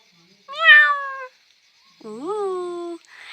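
A voice imitates a cat, two drawn-out meows separated by a short pause, close and clear.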